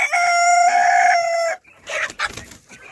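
A rooster crows loudly and close, followed by a few clucks and scratchy rustling from nearby chickens.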